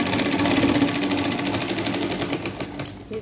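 A sewing machine stitches a lined katori blouse, its needle chattering in a rapid, even rhythm close by, running steadily and slowing slightly at the end.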